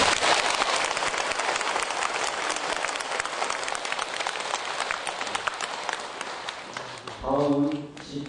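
A large congregation at a dharma assembly at Haeunjeongsa temple applauds the Great Master's dharma talk with sustained, loud clapping that gradually fades, after which a voice briefly speaks.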